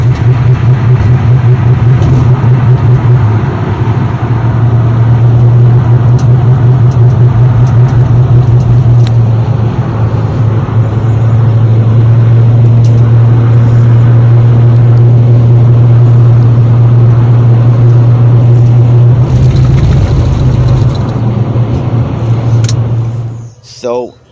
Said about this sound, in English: some of the symptoms that I was getting was poor acceleration, engine misfiring, the engine shaking in the car